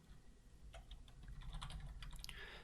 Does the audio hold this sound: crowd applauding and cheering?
no